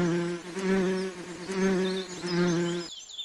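A bee buzzes steadily near a flowering garden, in three swelling waves of droning hum, close and fairly loud, before cutting off abruptly near the end.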